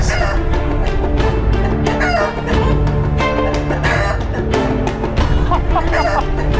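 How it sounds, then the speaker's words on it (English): Chickens cluck and a rooster crows amid a busy, loud barnyard mix that runs through the whole stretch, with faint voices and other noise layered underneath. "Let's study these chickens."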